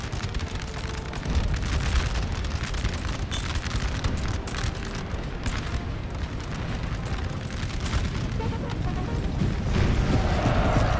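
Artillery barrage in a Napoleon Total War battle, a continuous rumble of booming cannon blasts and explosions with sharp bursts scattered throughout, loud and sustained for about eleven seconds with no talking.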